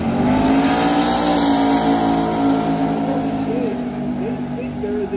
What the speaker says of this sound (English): Andrew Nelson seems very happy with the launch